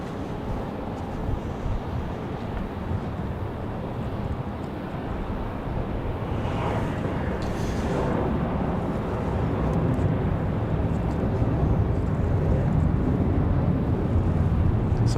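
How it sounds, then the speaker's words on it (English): A Southwest airliner taking off from Raleigh-Durham for Baltimore gives a steady, moderately loud broadband rumble that slowly builds, with faint wind noise and no speech. "as Southwest 1418 off to Baltimore."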